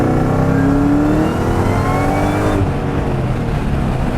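A Ford SVT Terminator Cobra fitted with long tube headers and a Borla exhaust revs hard and close, its deep engine note rising and falling before dropping back, with no talking over it.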